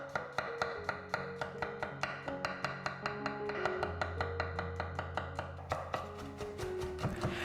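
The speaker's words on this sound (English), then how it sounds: "Next, I'm chopping 2 medium onions, nice and fine" A knife chops two medium onions finely on a board in a home kitchen, making a steady run of quick, close, crisp taps over roughly seven seconds, with a low hum running beneath them.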